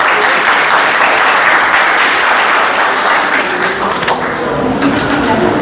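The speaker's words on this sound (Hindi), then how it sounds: "ढोल बजाने आता है तो एक बार जोर से ताली बजा दीजिए ढोल के लिए।" Loud, sustained applause from an audience, a thick, even roar of many hands clapping that continues unbroken throughout.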